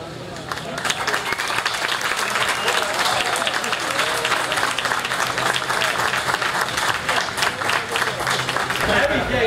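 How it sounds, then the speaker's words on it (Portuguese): Warm, sustained applause from a crowd at the inauguration of new electric port cranes at a terminal in Manaus, dense steady clapping filling the whole stretch with some voices mixed in. "sob aplausos calorosos"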